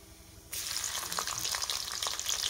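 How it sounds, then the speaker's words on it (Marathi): Cumin seeds with garlic dropping into hot oil, sizzling up suddenly after a quiet half-second and then crackling steadily and loudly, close by, with no talking. "तेल चांगलं गरम झालं आपलं, त्याच्यामध्ये मी अगोदर जिरे घालते."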